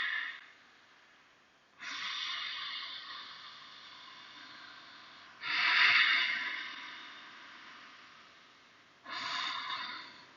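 Slow yogic breaths during a warrior-style yoga pose, three long hissing exhales roughly four seconds apart, close and fairly soft, with a quiet room between them and no talking.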